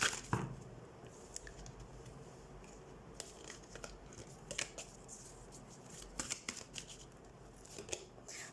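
Tarot cards are shuffled close by in soft bursts of riffling and flicking, quiet and intermittent, with small taps and rustles between them.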